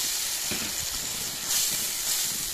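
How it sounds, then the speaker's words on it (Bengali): Spice paste frying in a pan for a Bombay duck (loitta fish) curry, with water splashed in: a steady close hiss and sizzle with brief spattering bursts, no voices. "মশলাটা আমাদের ভাজা হয়ে গেছে, এবার আমি একটু জল দেব।"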